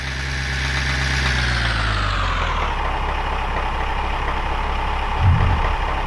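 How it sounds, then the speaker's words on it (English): A fuel truck engine in the Orbiter space sim game runs at idle, a loud, steady, close rumbling drone with a falling whine early on and one brief low thump near the end. "wait for the noisy, nasty fuel truck"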